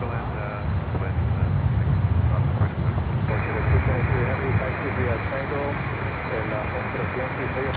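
Airliners landing on runway 9 at Miami Airport, including Boeing 777s and a 747-8, make a steady, loud jet engine roar that stays continuous throughout, with a low rumble underneath.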